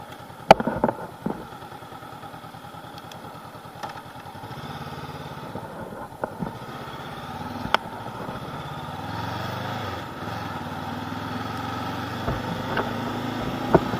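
A 2019 Honda CB500X motorcycle on a test ride, its engine droning steadily under strong wind noise with occasional sharp knocks, the tone rising slightly as the ride goes on and no talking.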